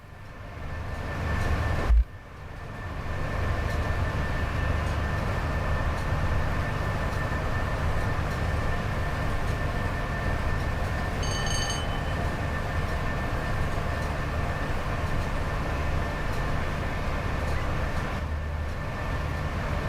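A train rolls steadily along the West Coast Main Line between Preston and Carlisle in Train Sim World 5, a continuous low rumble of wheels on rails with a steady hum, a brief thump near the start and a faint chime midway.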